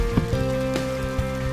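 Steady patter of rain falling in the video game Ayo The Clown, a dense continuous hiss with soft droplet taps over a low sustained musical drone, no voices.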